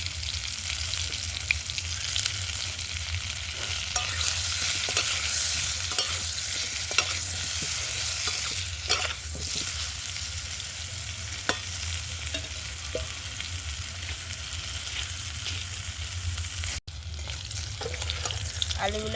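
Potato pieces fry in hot oil for a village-style chicken biryani. A continuous close sizzle is broken by repeated utensil scrapes and stirring clacks, with one brief cut near the end and no voices.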